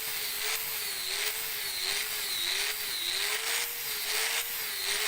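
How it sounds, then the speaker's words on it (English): Power grinder working a shallow groove into a wooden piece for bearing seats, a steady high whine with a wavering pitch that rises and dips rhythmically as the tool bites, loud and close with no talk. "Using a grinder, carefully create a little depth in the wood where the bearings will sit."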